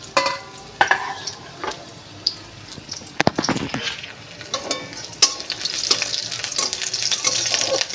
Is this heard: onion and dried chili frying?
yes